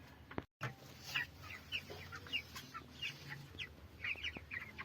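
Young chickens about a month old cluck and chirp in a tall coop built on a balcony, a series of short soft calls repeating close by over a quiet background.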